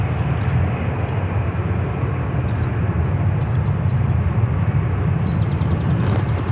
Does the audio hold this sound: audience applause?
no